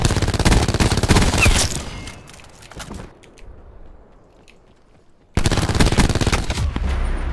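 Rapid automatic gunfire in the Black Ops 4 shooter game crackles in dense, loud bursts, drops to near silence for a few seconds, then resumes just as intensely.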